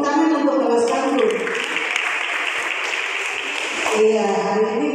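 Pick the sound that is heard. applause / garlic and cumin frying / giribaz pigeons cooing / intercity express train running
applause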